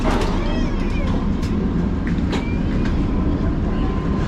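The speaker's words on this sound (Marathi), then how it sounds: "ट्रेन किती फास्ट आहे हे शेजारून ही ट्रेन जाताना कळतं आहे" An Amtrak passenger train near Red Wing, Minnesota runs at speed, a loud, close, continuous rumble with rattling clatter and brief squeals throughout.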